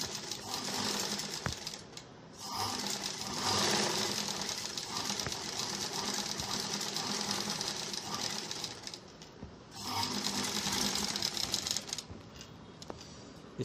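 A sewing machine stitches fabric for blouse and dress drawstrings in a steady fast whirring rattle, close and loud, pausing briefly twice before running on.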